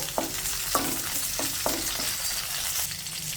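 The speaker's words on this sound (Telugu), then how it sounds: "ఇప్పుడు పచ్చిమిరపకాయలు కొద్దిగా వేగాయి" Green chillies, peeled garlic cloves and tamarind frying in a pan: a steady close sizzle with several scraping stirs of a spoon against the pan, no speech.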